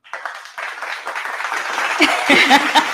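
An audience at a Women's Day event breaks into applause, the clapping swelling from scattered hands into a fuller round, with a few voices mixed in.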